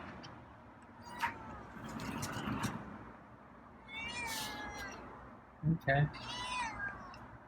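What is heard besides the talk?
cat meowing at the door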